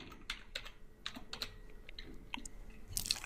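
Close-up typing on a computer keyboard while writing a JavaScript script tag, with a quick, irregular run of soft key clicks and a louder burst of keystrokes at the end.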